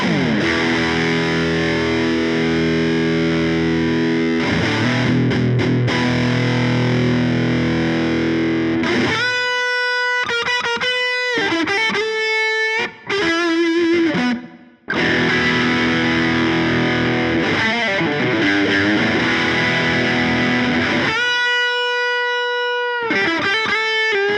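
Electric guitar through a Fulltone OCD drive pedal with the gain raised, loud distorted sustained chords and ringing notes played alone, broken by brief choked stops and a short silence before more thick overdriven chords.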